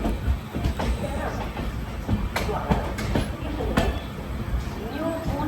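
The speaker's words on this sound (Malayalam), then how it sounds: "6:24 ട്രെയിൻ ഇപ്പോൾ മാൾഡ ടൗൺ റെയിൽവേ സ്റ്റേഷനിലേക്ക് എത്തുകയാണ്." A train pulling into Malda Town railway station, with rumbling wheels, clacking joints and brief metallic clanks, heard up close along with some background voices.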